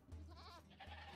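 Goat bleating in the video game Age of Empires II, a single short wavering bleat over a low steady background hum, quiet and brief.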